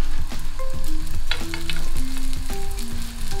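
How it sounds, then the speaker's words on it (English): Bread pieces toasting in a little oil in a pan for an Italian panzanella salad, a close, continuous sizzle with a melodic music bed running throughout and no speech. "It's gonna seem like you fry it, but you're not gonna fry it, you're toasting it"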